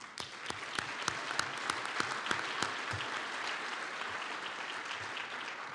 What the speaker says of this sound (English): I just want to give another huge round of applause to all the speakers